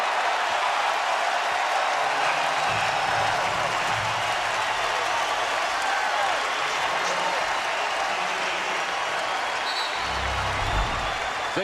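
A crowd cheers in a packed basketball arena at the 2008 NCAA East Regional Final between North Carolina and Louisville: loud, sustained roaring and applause throughout, with faint low voices underneath.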